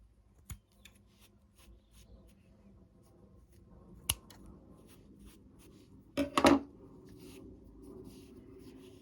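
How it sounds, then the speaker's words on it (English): Scissors snip through the edges of a crochet yarn tassel, giving a few brief, crisp cuts spaced apart, with a denser cluster of snips near the end, close and moderately loud against quiet room noise. "just have your scissors and cut the edges of your tassel"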